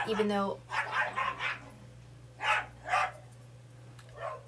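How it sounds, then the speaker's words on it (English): Dogs bark indoors in a few short bursts, moderately loud, while someone talks nearby over a steady low hum. "Sorry about the dogs."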